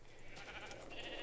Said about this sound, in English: You guys really might like this, because it's black sheep.